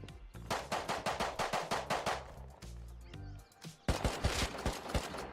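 Video game gunfire bursts out as a rapid automatic string of loud shots, pauses, then a second ragged burst of close shots during multiplayer play.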